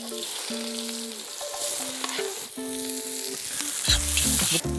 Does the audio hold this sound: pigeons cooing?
no